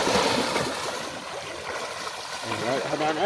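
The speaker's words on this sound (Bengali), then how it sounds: "প্রচন্ড স্রোত বয়ে যাচ্ছে" A strong river current rushes and gurgles close by in a continuous broad wash of water, with voices talking over it.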